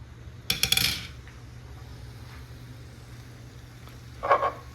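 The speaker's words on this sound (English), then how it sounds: "Put in our mushrooms." Wild oyster mushrooms drop into a frying pan with butter, a quick clatter of contact and handling near the start, a low steady hum beneath, and another short scrape or clink near the end.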